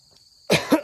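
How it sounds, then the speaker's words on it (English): A person gives a few harsh, close coughs in quick succession after a brief quiet moment. "Sorry, I'm still getting over this cough, so I may start coughing."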